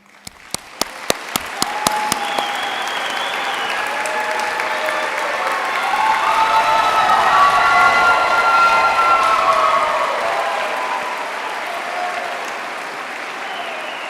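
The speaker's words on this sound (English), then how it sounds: "I'd like to invite my fellow graduates to take a moment to stand and" A commencement crowd of pharmacy graduates stands and breaks into loud, sustained applause and cheering in a symphony hall, opening with a few sharp individual claps before swelling into a dense roar that peaks midway and eases slightly.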